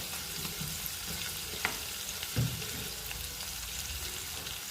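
Spice masala sizzling steadily in a hot frying pan for a Marathi dried bombil curry, a continuous close frying hiss with a couple of small clinks, no talk.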